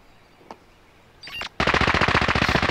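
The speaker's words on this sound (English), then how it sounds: "They're shooting down." Rapid automatic gunfire in the video game Call of Duty Warzone: one loud, sustained burst of evenly spaced shots starts suddenly after a short quiet lead-in.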